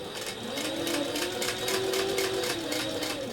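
A sewing machine back tacks along the edge of a cork envelope wallet, giving a steady close rapid stitching whir with no talking.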